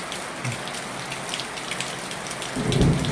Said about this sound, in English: there's lightning and thunder now